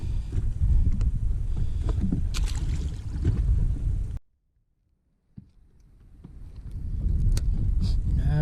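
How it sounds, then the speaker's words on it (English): Wind blows across a lake during crappie fishing from a boat, buffeting the microphone with a loud, rough rumble that cuts out briefly midway and then builds back up. "The wind has gotten up and it's made it a little bit tougher"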